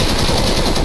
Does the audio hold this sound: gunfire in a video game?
yes